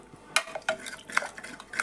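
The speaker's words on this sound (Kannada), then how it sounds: "ಈಗ ಟೊಮೆಟೊ ಕೂಡ ಎರಡೂ ಮಿಕ್ಸ್ ಮಾಡ್ಕೊತೀನಿ ನೋಡ್ರಿ" A utensil stirs tomato into a sizzling garlic tempering for bele saru, making several sharp metallic scrapes and clacks against the pan over a faint fry, with no talking.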